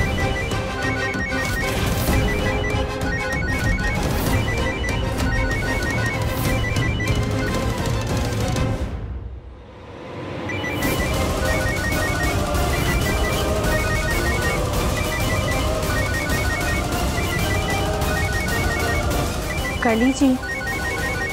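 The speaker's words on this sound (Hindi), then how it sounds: "आपका फोन कब से बज रहा है?" A telephone in a Hindi television drama scene rings with a repeating patterned electronic tone that continues under dialogue, briefly drops away, then resumes while people keep talking.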